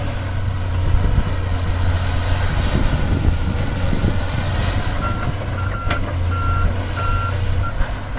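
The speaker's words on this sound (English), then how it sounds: "The excavator seems to work very well out here." An excavator works at a mining claim near a screen plant, its engine a steady loud drone throughout while a reversing alarm chirps in a regular series of beeps over the last few seconds.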